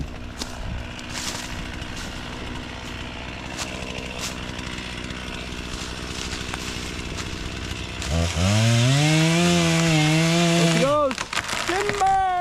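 A chainsaw makes the back cut while felling one of the last trees at a sugar shack: a steady saw drone runs under talk, then the engine revs hard and wavers loudly for several seconds before dropping off.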